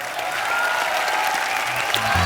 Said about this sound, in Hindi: जोरदार तालियों से स्वागत कीजिए द ग्रेटेस्ट एंटरप्रेन्योर चंदू चाय वाला।